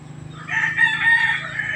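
A rooster among farm chickens gives a single loud, close crow lasting about a second, standing alone with no voices over it.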